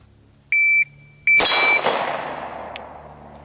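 A Glock pistol fired at steel targets on a shooting range. Two electronic timer beeps are followed by a sharp, loud shot with a ringing metallic clang that fades, then a faint later ping.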